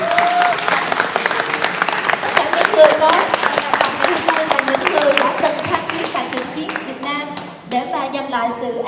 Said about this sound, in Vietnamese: Would you give all of the persons who are here in uniform a big hand